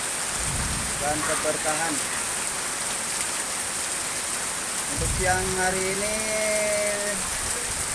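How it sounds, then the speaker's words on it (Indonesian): Heavy rain pours steadily in Cikarang, a dense continuous hiss of downpour throughout, with someone speaking over it. "wilayah Cikarang diguyur hujan deras ya kawan-kawan ya."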